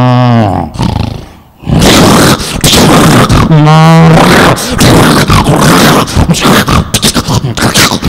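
A mimicry artist on stage at a cement company launch event voices a lion's roar, delivering several loud, throaty growling roars with brief pauses between them, close and forceful.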